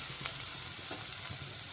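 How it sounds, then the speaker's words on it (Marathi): Onion and tomato sautéing in a pan with a little salt give a steady, close frying sizzle with soft stirring scrapes, heard alone without talk. "कांदा टोमॅटो आपला छान शिजावा परतावा म्हणून मी टाकले थोडंसं मीठ"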